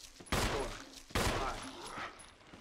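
Two loud gunshots fired at zombies in the Resident Evil HD Remaster video game, each a sharp broadband blast with a decaying tail, spaced under a second apart.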